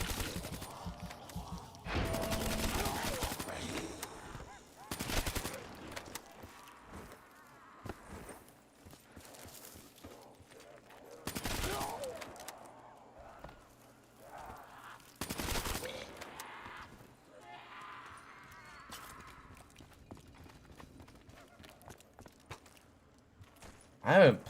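Gunfire in the Shangri-La map of a Call of Duty zombies round, loud bursts of rapid shots breaking out several times amid quieter game noise and footsteps, with someone talking over parts of it.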